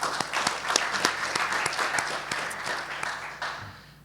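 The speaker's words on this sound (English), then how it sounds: "So I'd just like to give them a warm round of applause for setting this all up for us." An audience at the APRC 2024 opening session of an agricultural plastics conference claps in a steady round of applause that fades toward the end, with no talking over it.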